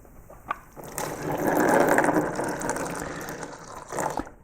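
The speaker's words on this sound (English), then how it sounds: "Here's what taking the oil drain plug out is like normally" A car's oil drain plug being unscrewed with a ratchet, with clicking metal at the start and a steady liquid gush of oil swelling up in the middle and easing off, close and moderately loud.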